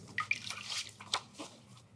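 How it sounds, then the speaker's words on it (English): Water drips and trickles softly as a wet paper towel is squeezed out by hand, a few small splashes and squishes close by and quiet, with no talk. "you're going to squeeze out the excess water."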